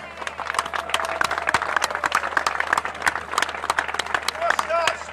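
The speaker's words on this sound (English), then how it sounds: "Let's have some applause for Richard" A crowd at a DFLA day of action rally in Sunderland applauds a speaker, sharp scattered claps over an outdoor hum, with voices and cheers mixed in throughout.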